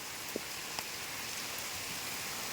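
Steady rain falls across a village, a soft continuous hiss with a couple of faint drip ticks, no voices.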